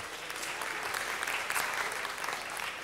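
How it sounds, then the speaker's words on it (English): An audience at a city council meeting applauds schools and their leaders, a steady wash of many hands clapping, moderately distant and even throughout. "Let's give a round of applause for these three schools and leaders that are here today."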